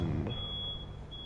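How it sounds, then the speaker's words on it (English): A smoke detector in a room gives a thin, high, steady electronic tone, fairly faint and heard twice with a short gap, over low background hum. "I apologize if you guys hear the smoke detector going off."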